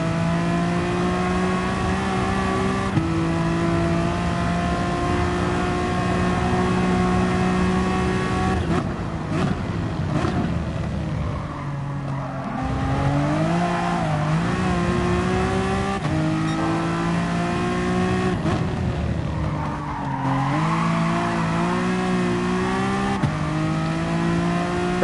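Racing game engine sound from GT Sport, a car revving and shifting through gears as it's driven hard, loud and continuous with rising and falling pitch and brief lifts between gear changes.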